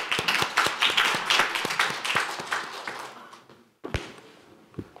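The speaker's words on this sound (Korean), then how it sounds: "박수로 맞아주십시오." An audience at a youth speech contest claps to welcome the host organization's representative to the stage, a dense burst of hand claps that thins out and fades, leaving a few scattered claps.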